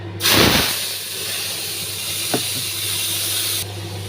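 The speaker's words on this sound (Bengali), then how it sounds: "আমি তেলে দিয়ে দিয়েছি 2-3টে তেজপাতা ছোট ছোট। আর আমি মশলাটাও দিয়ে দেবো" Small bay leaves and spices hit hot oil with a sudden loud hiss that settles into a steady, close sizzle, with one brief tap midway and no talking.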